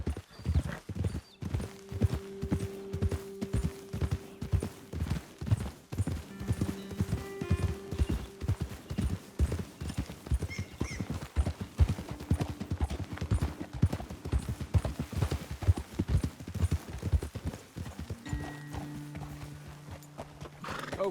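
Horses in Red Dead Redemption 2 trot along with steady, rhythmic hoof clip-clops, close and clear, with occasional snorts and whinnies amid faint background tones and brief talking.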